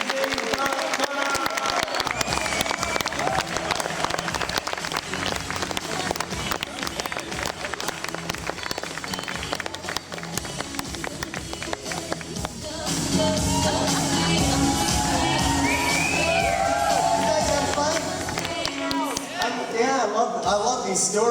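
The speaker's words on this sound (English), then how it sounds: "Give him a huge round of applause." Audience applause and cheering for a business speaker's introduction, loud and sustained throughout, with a crowd's clapping swelling again in the second half and voices mixed into the noise.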